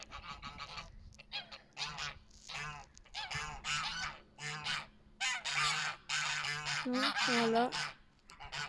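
Geese on a farm give repeated nasal honks in short bursts, close and fairly loud, mixed in with a person speaking over them.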